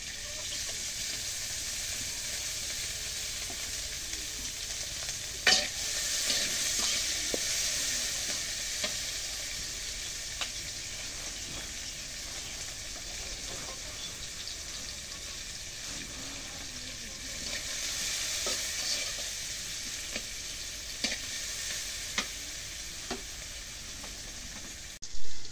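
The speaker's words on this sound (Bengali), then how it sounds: "এখন পেঁয়াজ মরিচ রসুন ভাজা হয়েছে তেল দিয়ে" Onion, chili and garlic fry in hot oil with a steady, fairly soft sizzle throughout, broken by occasional clinks and scrapes of stirring and a brief splash of water near the end.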